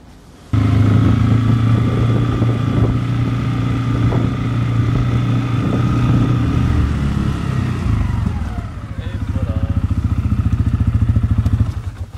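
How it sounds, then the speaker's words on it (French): A quad bike (ATV) engine runs at a steady idle with a humming, buzzing tone, then shifts near the end into a rougher, pulsing rev. "Le quad."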